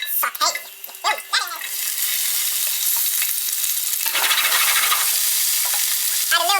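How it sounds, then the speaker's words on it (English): Vegetables sauté in olive oil in a frying pan for a pasta bake. A loud, steady sizzle fills the pan after brief clatter and stirring at the start. "now it's time to put these vegetables in the frying pan and let them saute"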